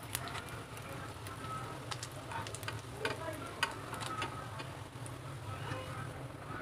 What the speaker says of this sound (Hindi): चलें जी, शामियाँ हमारी अच्छे से फ्राई हो चुकी हैं। अब इनको तवे के साइड पे रख देंगे।